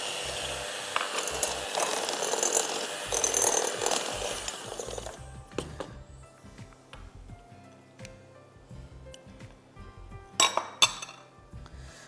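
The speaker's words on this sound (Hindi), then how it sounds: "ये हिलाइए। अच्छी तरह मिक्स करिए।" A spoon clinks and scrapes around a bowl while brownie batter is stirred and mixed, a dense burst of rattling at first, then sparser, quieter taps and scrapes with a couple of sharp knocks near the end.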